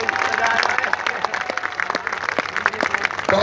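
Audience applause at a college welcome event in Multan, a steady, close wash of clapping that carries on throughout, with a voice speaking faintly underneath.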